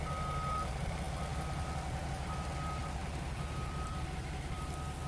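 A car turning around at a toll road construction site sounds a regular series of reversing beeps over a constant low engine rumble and a rain-like hiss, all fairly quiet.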